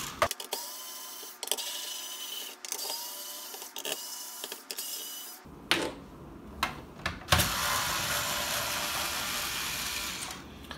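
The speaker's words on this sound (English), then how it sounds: "I have just a cheap, power screwdriver and the Nintendo game bit." A cheap power screwdriver with a game bit whirs as it backs screws out of a Nintendo 64 shell, giving a steady motor whine broken by a few clicks, then a short clatter and a brighter, louder buzz.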